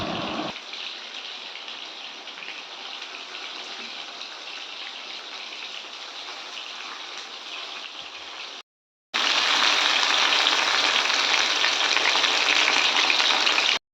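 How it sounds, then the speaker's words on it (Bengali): Pumpkin leaves fry in hot oil in a wok, a steady broadband hiss like heavy rain that cuts out briefly, then returns louder and fiercer; no voices. "আর ততক্ষণে এদিকে আমার পাতাটা ভাজা হয়ে গেছে"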